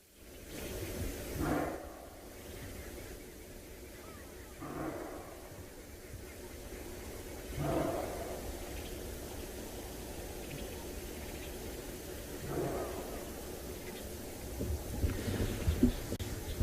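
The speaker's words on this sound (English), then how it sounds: "it almost sounds like a bark, like a dog barking in the distance. So that's from kudu." A kudu in the African bush at sunset gives several short, dog-like barks far in the distance, spaced every few seconds, faint against steady wind and background hiss.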